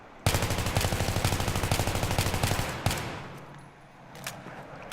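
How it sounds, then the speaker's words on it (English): An M16A4 in Battlefield 3 fires rapid bursts, a long loud string of evenly spaced shots that stops abruptly, followed by a lingering echo and quieter ambient game sound. "M16A4 is going to function a lot like how the M4 will, being the burst fire variant"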